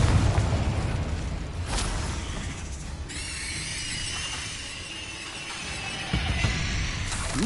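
Confringo explosion spell in Hogwarts Legacy: a fiery blast with a sharp burst onset followed by crackling, rumbling fire and debris, moderately loud, with further bursts near the end.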